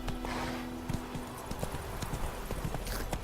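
A horse gallops in The Witcher 3, with steady clip-clop hoofbeats at a quick rhythm and a faint whinny, set against game ambience.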